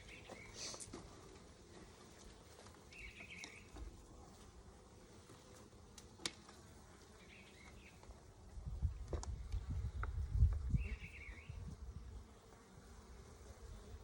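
Honeybees buzz softly around a hive, a faint steady hum with a louder, closer drone swelling near the end.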